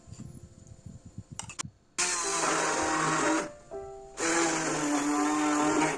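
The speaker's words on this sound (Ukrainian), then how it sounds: "взбити масу блендером до однорідності" A blender whirs loudly in two long bursts after some clattering, dipping briefly between runs, then roaring steadily again nearby, whipping a cheese, sour cream and butter mixture until smooth.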